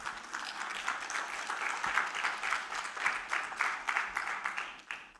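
A church congregation clapping at a Spanish-language service, a fairly even patter of many hands with faint rhythmic accents, no talking over it.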